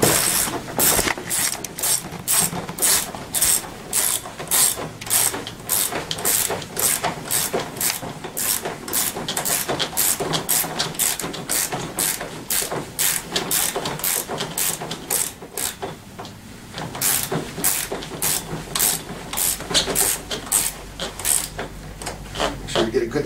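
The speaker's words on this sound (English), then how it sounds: "Start just tightening this down." A ratchet tightens bolts during assembly of a Tao Tao CY50 scooter, clicking in rapid, steady strokes for a long stretch with a brief pause midway, close and crisp, while a voice speaks now and then.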